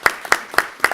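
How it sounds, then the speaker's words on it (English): Audience applause at a school board of education meeting honoring a high school English teacher, with four sharp bursts of clapping in quick succession, fairly close and loud. "let's clap for Bridget as well"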